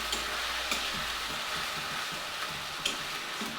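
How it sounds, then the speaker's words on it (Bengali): Chopped tomato fries gently in a spice mixture over a low gas flame for a potato and cauliflower curry, giving a soft, even sizzle that stays faint and steady throughout. "তখন আমি এতে কিন্তু একটা টমেটো কুচি দিয়ে দেব। দিয়ে দিলাম একটা টমেটো কুচি।"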